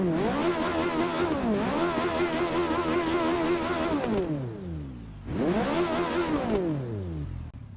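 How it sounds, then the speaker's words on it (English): A race car engine in the Forza Motorsport 6 video game revs hard twice, rising in pitch, then winding down each time; loud and close, with no talk. "Proper race car noise there"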